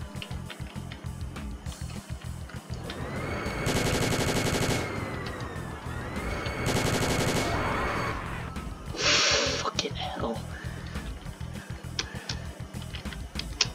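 Gunfire in the sci-fi video game Mars Undying comes in loud, dense bursts at long range, mixed with rhythmic low thumps and game effects.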